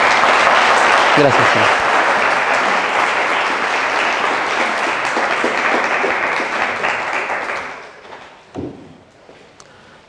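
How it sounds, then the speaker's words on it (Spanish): An audience at a university biology lecture breaks into loud, sustained applause for the lecturer, a dense wash of clapping that fades away after several seconds, followed by a brief spoken thanks and a soft thump. "Le damos un aplauso al maestro."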